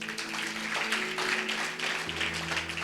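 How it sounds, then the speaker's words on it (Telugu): Applause from the congregation during a church sermon: a sustained, moderately quiet patter of many hands clapping over a low, steady instrumental drone. "అయితే క్లాప్స్ కొట్టాలి"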